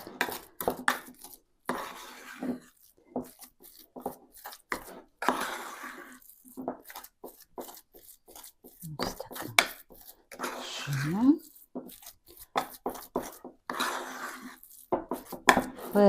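A fork and spoon mash a fatty ingredient against a dish in short, irregular scraping and clinking strokes, close and fairly quiet, with someone talking between them.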